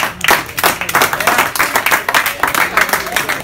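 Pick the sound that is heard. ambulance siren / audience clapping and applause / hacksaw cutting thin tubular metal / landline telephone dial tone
audience clapping and applause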